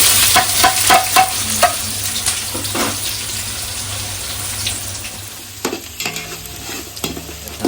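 Finely chopped onions, three or four of them, sizzle in a hot pan as a spoon stirs and scrapes them repeatedly, loud and close, with the frying easing off partway through.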